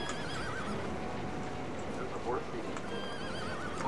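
Horse neighs and whinnies with clip-clop hooves in a video game set near a tribal village, steady game ambience throughout and a voice talking over it.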